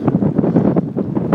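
A strong 25 mph headwind buffets a touring bicycle rider on a Colorado road, a loud, gusty rumble of wind noise pounding against the microphone with uneven surges.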